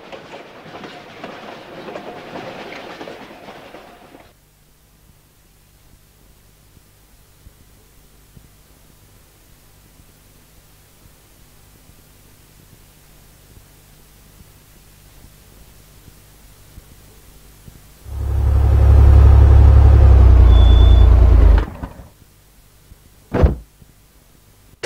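A train arrives at a station with a rolling rumble that fades to near quiet, then a loud, close burst of rushing noise and braking lasting several seconds, followed by a sharp clank as it stops.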